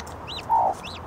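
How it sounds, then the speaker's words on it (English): A broody hen clucks inside a hen house, giving one close, fairly loud cluck midway over a low, steady barnyard background, with no voices. "Miss Broody chicken."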